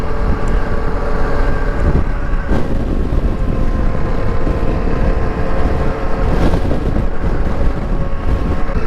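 Strong wind roars loud and unbroken against the microphone during a cold motorcycle ride toward Pine Hill, with engine and road rumble under the gusts and no talk.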